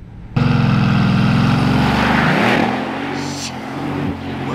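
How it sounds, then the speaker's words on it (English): Bugatti Veyron launched from a standstill on snow and ice, its engine roaring loudly and climbing steadily in pitch before easing off as the car pulls away. "we're gonna launch the Veyron in the snow and ice"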